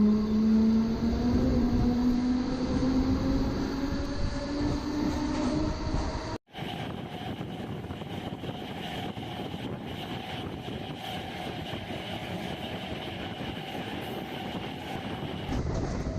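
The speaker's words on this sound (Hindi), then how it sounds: "जल्द ही हमारी ट्रेन दिलदार नगर रेलवे स्टेशन से डिपार्ट कर दी।" An Indian passenger train departing Dildarnagar railway station: a loud, steady rolling rumble with a rising whine as it gathers speed, then a brief gap followed by continuous clattering wheel noise, heard close from onboard.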